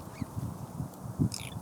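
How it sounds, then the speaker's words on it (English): A magpie gives a few short, harsh, honking calls at a moderate distance, ending with a brief higher chirp. "Oh, I think it's a magpie."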